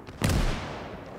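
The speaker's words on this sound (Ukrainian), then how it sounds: "Хлопці, постріл!" A cannon fires in the war video game Call to Arms, a single loud, deep boom with a sharp onset that rolls off into a long fading rumble.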